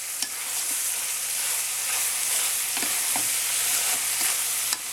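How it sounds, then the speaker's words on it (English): Pork frying in a pan over medium heat, a dense continuous sizzle with small scattered pops and a few light stirring clicks, close and steady throughout. "you can see the sizzle there in the pan"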